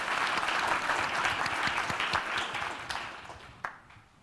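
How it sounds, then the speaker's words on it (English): A conference audience at Build 2017, in a C++ and Visual Studio 2017 session, applauds in a full burst of clapping that gradually thins and fades, with a few last claps near the end. "give them a hand of applause"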